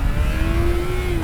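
A 600cc motorcycle engine revs hard as the rider lifts the front wheel into a wheelie, a loud, close, steady mid-pitched engine roar with a held tone and no voices.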